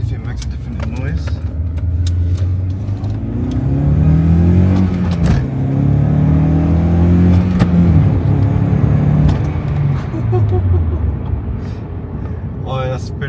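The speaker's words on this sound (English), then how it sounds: "That sounds like a pod filter. It's so different to OEM." A Honda CL9 fitted with a pod air filter revs repeatedly, its engine note rising and falling in several sweeping pulls with a loud, raspy intake tone over a constant road rumble.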